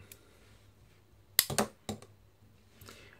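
A Victorinox multitool has its lock released: a few sharp metallic clicks and snaps bunched close together, near and crisp, against a quiet background.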